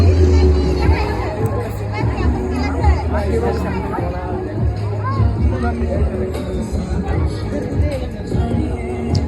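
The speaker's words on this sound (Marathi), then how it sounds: "लंडन ब्रिजवर गर्दी लय खतरनाक मध्ये" Crowd on the London Bridge replica in Baramati: dense babble of many voices and chatter, close and steady throughout, with nearby people talking.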